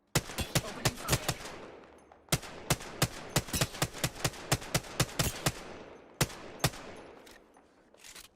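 Video game gunfire in sharp, loud bursts of rapid shots, with three volleys separated by short pauses and no talking.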